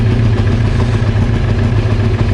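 A Honda CBR 900 Fireblade motorcycle engine, being diagnosed for backfiring and running issues, runs close and loud with a steady, even idle rumble throughout.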